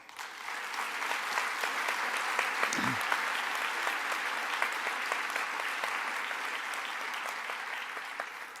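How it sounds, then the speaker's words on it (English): Sustained applause fills the hall at the opening ceremony of the ACM ICPC World Finals 2017, a dense wash of many hands clapping steadily from start to finish at an even, loud level. "Please join me in a round of applause for Joe de Blasio."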